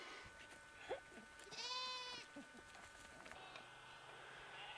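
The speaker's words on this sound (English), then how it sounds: "And the sheep are in" Captured sheep on Santa Cruz Island give one drawn-out wavering bleat midway, faint against a quiet outdoor background with scattered soft noises.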